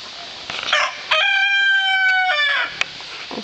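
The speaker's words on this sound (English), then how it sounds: "we've got turkey and chicken calling in the same" A chicken calls nearby on a country farm, one loud, drawn-out crowing cry with a few short clucks before and after, heard alone without talk.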